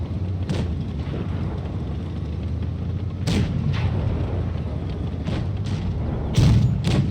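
Tank cannon shots in a World of Tanks-style battle, several heavy booming blasts spaced irregularly over a constant rumbling engine and battle din, the last shot the loudest.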